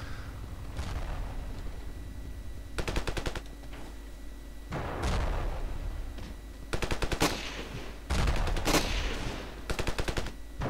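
Bursts of automatic gunfire from the video game Ravenfield, several rapid volleys of rifle or machine-gun fire separated by brief gaps over a steady background rumble, loud and close with no talk.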